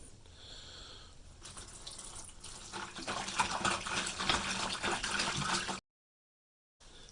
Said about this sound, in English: I'm going to add just some distilled white vinegar